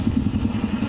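A motorcycle fitted with a loud modified aftermarket silencer throbs close by in a steady, fast pulsing low rumble, with no voices over it.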